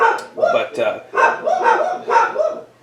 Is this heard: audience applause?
no